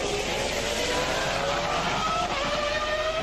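A Ferrari Formula 1 car from 2002 races past during practice at the San Marino Grand Prix, its high-revving engine whining steadily and rising in pitch over a continuous drone.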